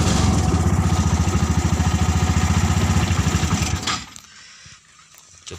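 A motorcycle engine fitted in a small car, running with a rapid, even putter, close and loud, then cutting off abruptly into near quiet.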